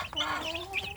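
Young village chicks peep and cheep in a brooding box, a busy overlapping chorus of thin high calls close by.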